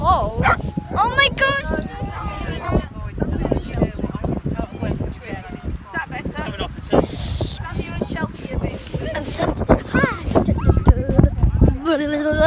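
Several dogs bark, yip and whimper on a cold beach at Weymouth, dense overlapping barks close by, mixed with people talking throughout.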